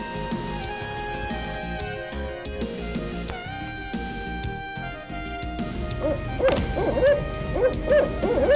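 An owl hoots in a tree directly above a riverside camp in the Okefenokee Swamp, its calls ringing out over a steady bed of music and ambient sound, growing a little louder toward the end.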